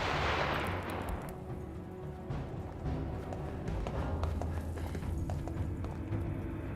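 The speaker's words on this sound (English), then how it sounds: "And you can hear the gunshots." Sniper gunfire in the war survival game This War Of Mine, a scattering of sharp distant shots over a steady low rumble of ambience, with a swelling whoosh at the start.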